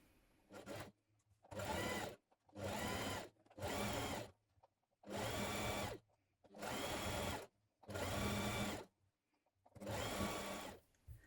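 A sewing machine runs a 1.5 centimetre seam on a coat in about eight loud, even bursts of rapid stitching, each lasting roughly a second and split by short silent gaps.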